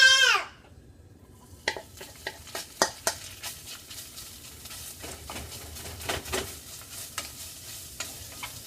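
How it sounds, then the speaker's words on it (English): Soy being sautéed with a spatula in a hot pan over high flame: after a brief opening sound, repeated clacks and scrapes of the spatula come in an irregular rhythm over a soft sizzle, close and alone. "Saute it a little bit,"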